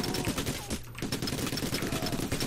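Rapid gunfire in the video game PayDay crackles as dense bursts of loud shots, nearly continuous with a brief gap, mixed with background game noise.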